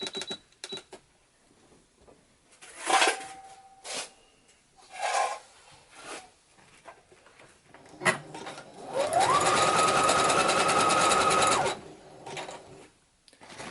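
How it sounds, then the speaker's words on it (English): A sewing machine runs a single wide zigzag stitch across belt straps for an X-Wing pilot ejection harness, giving a steady loud mechanical whir for a few seconds after scattered handling clicks and rustles. "I'm going to use a wide, aggressive zigzag stitch and just stitch it across once"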